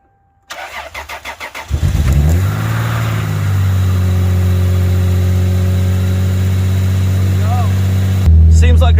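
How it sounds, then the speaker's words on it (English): An old Lexus, abandoned for years and run on a slightly low battery, cranks over several times, catches and fires up, settling into a steady idle, then revs up briefly at the end; a voice speaks over the idling. "Seems like it started perfectly fine."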